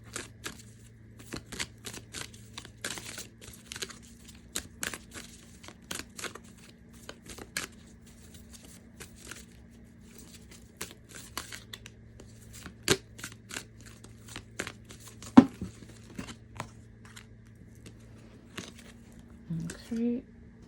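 Oracle cards from the Divine Guidance deck shuffled by hand in repeated quick riffling bursts and soft slaps, close up and fairly quiet, with a low steady hum underneath and a person speaking now and then.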